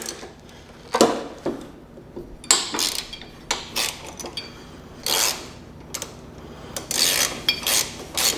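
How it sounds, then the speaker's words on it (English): A 3/8-inch ratchet drive turns a Harley-Davidson steering neck bearing nut, giving irregular bursts of metallic clicking and scraping with brief pauses between strokes, close and fairly clear, with no talking. "you take a 3/8 ratchet drive and it fits into that bottom 4-leaf clover looking thing"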